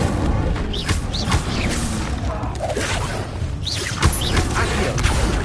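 The Incendio fire spell is cast in Hogwarts Legacy, a dense burst of whooshing, crackling magical effects with several sharp booming impacts over a busy, loud game soundscape.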